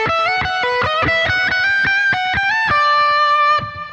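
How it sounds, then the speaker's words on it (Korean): Electric guitar through a Boss GX-100 multi-effects unit with its Delay Plus echo engaged: a rapid, loud melodic line of picked notes, with a long held note near the end that fades out. "여기서 약간 에코를 주는 느낌입니다."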